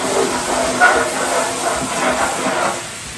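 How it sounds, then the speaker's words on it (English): Stir fry sizzles and hisses in a hot pan as steam rises, a loud, continuous spitting hiss that swells in short bursts and then eases off toward the end. "We're gonna give that some steam."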